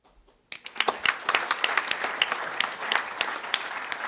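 After a moment of near silence, applause starts abruptly at a court symposium, a modest audience clapping steadily with sharp, distinct claps in a hall.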